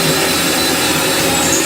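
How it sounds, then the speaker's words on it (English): A power drill boring a hole in wood whirs loudly and steadily at close range, a continuous broadband grinding drone with no pauses. "I could just move the drill down and over a little bit, drill a new hole."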